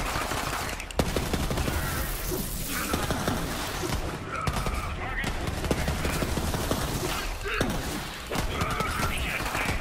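Rapid shotgun blasts and chaotic combat noise in the video game Borderlands 3, with dense overlapping shots and impacts under continuous game sound.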